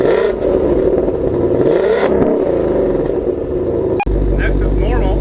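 Ford GT V8 sports car exhaust in quiet mode, a loud, steady low rumble that swells slightly before a sharp brief cutoff near the end, with a voice talking over it.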